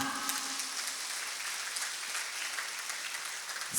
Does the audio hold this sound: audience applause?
yes